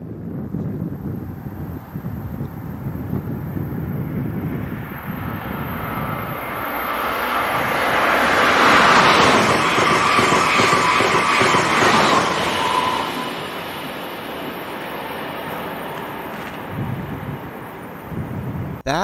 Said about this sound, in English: That was Amtrak Acela train number 2253, passing through at 3:49 p.m.